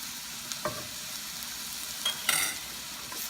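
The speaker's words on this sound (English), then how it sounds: "Then this time we're going to add our onions." Onions frying in a pan for lasagna make a soft, steady sizzle close by, broken by a few scraping stirs and a brief louder clatter; no one speaks.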